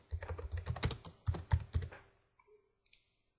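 Rapid typing on a computer keyboard while renaming a display state in CAD software, a dense close burst of clicking keystrokes for about two seconds, then a few faint isolated taps.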